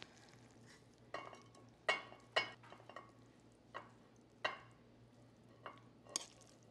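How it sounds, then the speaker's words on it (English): A spoon works a salmon loaf mixture of milk, egg substitute and black pepper in a bowl, giving about seven sharp scraping clinks at irregular intervals over a low, quiet background. "We're going to mix this up very thoroughly, and into the loaf it goes."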